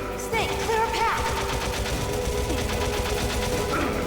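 Rapid automatic gunfire in the video game Metal Gear Solid 1, a loud, continuous stream of fast repeated shots lasting several seconds, with faint voices and tonal game sounds mixed underneath.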